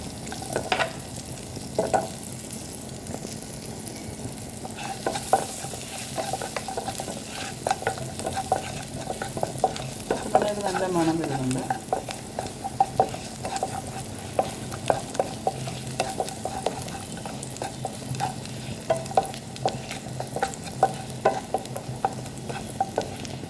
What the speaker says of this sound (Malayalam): വെളുത്തുള്ളി ഇട്ട് കൊടുക്കാം